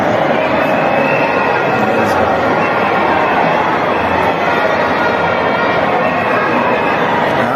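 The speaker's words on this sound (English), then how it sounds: "And here is a crowd" A dense crowd on a Johannesburg city street, heard as a steady, loud wash of overlapping voices and general hubbub with no single voice standing out, continuous throughout.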